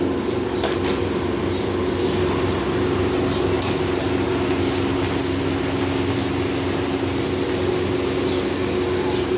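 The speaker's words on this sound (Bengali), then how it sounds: "অনেকগুলো লুচি ভাজা হয়ে গেছে" Luchi deep-fry in hot oil with a dense, continuous sizzling hiss that stays loud and steady throughout, joined by a low background hum and a faint clink or two; no voices.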